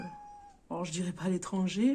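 A cat meows faintly in a quiet room, a single tonal cry at the start, then someone talks in French at close range.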